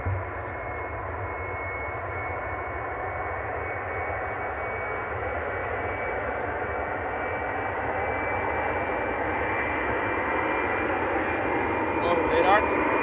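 A jet airliner roars steadily through its takeoff at Amsterdam Airport, a loud sustained broadband rumble holding for the whole stretch with no talking over it.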